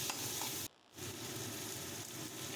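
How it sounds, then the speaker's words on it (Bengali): Spices, onion and potato sautéing in a pan, a dense, close sizzle that cuts out briefly near the start and then resumes steadily. "সমস্তটা ভালো করে নেড়ে চেড়ে মশলা পেঁয়াজ আলু সব ভালো করে কষিয়ে নিতে হবে"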